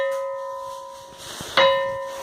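A rock in Bahia is struck and rings like a bell, giving a sustained metallic tone that decays slowly before a second sharp strike rings out again near the end; no one speaks.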